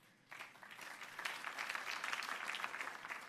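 Audience applause during a mayor's education speech in the city, a quiet start swelling into steady, sustained clapping from a sizable crowd, with no talking over it.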